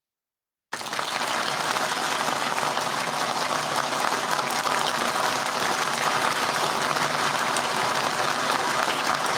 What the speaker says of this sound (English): You can get the applause